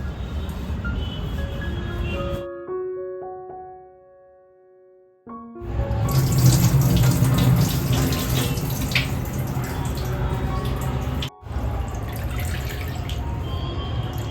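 Tap water runs steadily into a sink as mutton is washed, with splashing and washing sounds, stopping briefly before flowing again, loud and close.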